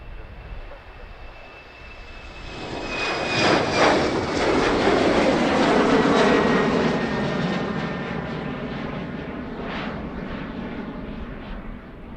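Jet airliner engines at Amsterdam airport roar steadily from a distance, swelling louder over several seconds as an aircraft passes, then easing back into a lingering broad rumble with no talk.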